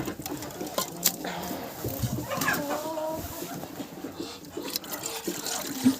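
Small chickens clucking softly around a water dish on a farm, scattered short clucks and rustles at low level, with a voice speaking gently now and then among the birds.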